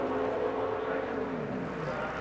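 A NASCAR race car on a 2005 qualifying lap at Phoenix drones steadily and fairly faintly at a distance, its engine pitch sliding slowly downward.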